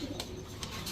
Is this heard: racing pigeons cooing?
yes